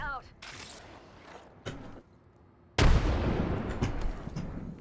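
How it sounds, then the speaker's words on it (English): Heavy airstrike explosions and gunfire in the battle royale game Apex Legends, a sharp blast followed by a loud sustained rumble, with a player's voice talking over the booms. "And I'm being airstriked."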